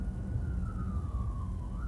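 Police car siren wailing in a steady, slowly sliding tone, heard from some distance over loud low road rumble inside a moving Tesla.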